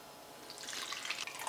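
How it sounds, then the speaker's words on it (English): Dashi broth poured through a cheesecloth strainer, a soft, steady liquid trickle and splash that swells partway through, close and fairly quiet with no talking. "I'm going to pour this now through the cheesecloth."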